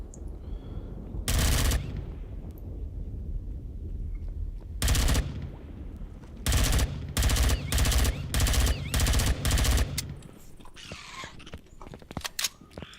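Automatic gunfire in the sci-fi survival game Empyrion Galactic Survival, sounding as several loud, close bursts of rapid shots separated by short pauses, ending in faint scattered noises.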